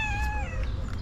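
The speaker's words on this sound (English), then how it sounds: "This cat is so freaking loud" A loud, close cat meows in one drawn-out, falling call, full and insistent, with a little low background rumble underneath.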